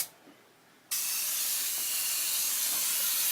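A cheap $50 paint spray gun driven by an air compressor bursts into a loud, steady hiss after a brief quiet start, the spray holding constant and close.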